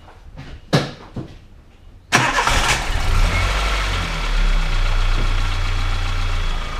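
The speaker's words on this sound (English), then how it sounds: "and then I can go ahead and start this car" A Toyota Tazz 1.3 engine cranks and fires during a basic service, then settles into a steady, fairly loud idle with a low rumble. A few handling clunks come just before the start.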